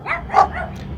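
Two dogs barking on a small-town street in South Carolina, a few short yips and barks close by within a second, with low background rumble.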